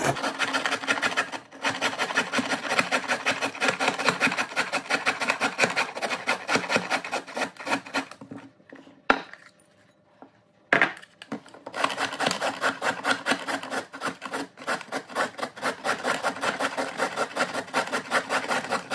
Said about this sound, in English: Then using your grater, the big piece, you're going to grate it.